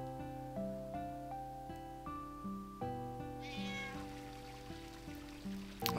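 A cat in the game Final Fantasy IX meows over calm, tinkling background music and a faint trickle of water, the mewing close and clear with no talk.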